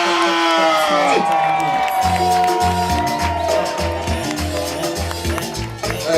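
A comedy show audience in Uganda roars with loud cheering, whoops and applause as comedian Basketmouth walks on, with music playing underneath and a voice briefly speaking over the din.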